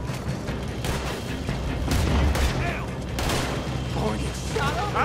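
Gunfire in Red Dead Redemption 2 crackles in a dense, chaotic exchange of shots and booms among other action noises. The firing is steady and loud, with people talking over it.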